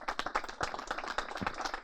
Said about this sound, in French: Monsieur Tahar Benjeloun, que je vous prie d'applaudir s'il vous plaît.